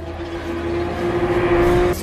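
A stolen car roars away from a casino at high speed, its engine holding a steady hard-driven tone that builds in loudness, a close, continuous vehicle sound with no talk over it, ending in a sudden cut.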